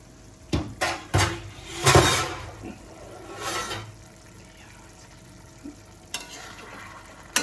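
A spoon stirs a thick ash gourd curry with fish head and moong dal in a pan: a few quick scraping strokes and soft sizzling, then quieter clinks, close by and without talk.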